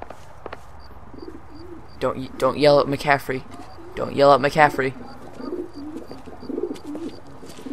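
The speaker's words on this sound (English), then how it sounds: "To the pigeon coops. I don't know why there's a pigeon coop." Pigeons cooing at pigeon coops in the video game L.A. Noire, soft repeated coos mixed in with someone shouting over them.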